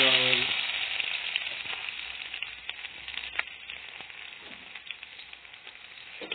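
Sliced onions and chilies dropped into a little hot oil in a karai, opening with a loud burst of sizzling that settles into a steady, softer frying crackle with occasional stirring clicks.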